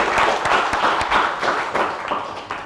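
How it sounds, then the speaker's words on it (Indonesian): Classroom applause for a student named Fani, a steady patter of many hands clapping together for several seconds, fairly close and fading slightly toward the end, with no talking over it. "Beri aplaus dulu buat Fani."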